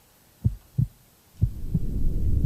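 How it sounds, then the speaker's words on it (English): Heartbeat effect for an educational human body title sequence: four deep, muffled thumps in an uneven pulse, followed by a low hum that swells and continues to the end. "you can hear the heartbeat too"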